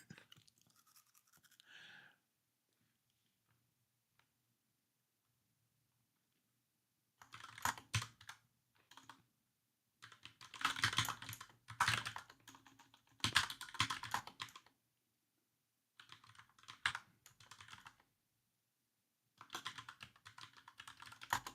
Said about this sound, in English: I'm just kind of typing and talking at the same time is always tough for me